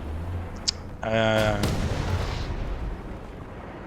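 In the War Thunder video game, rockets are fired on the Iberian Castle map, landing as a heavy roaring blast with a long rumbling tail after a small earlier pop, loud and close.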